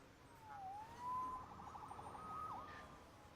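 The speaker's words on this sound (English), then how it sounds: "Saved by the siren." Police siren in the Spider-Man PS4 video game, heard faintly at a distance as a wailing, sweeping tone that rises and falls over a quiet background, with no talk.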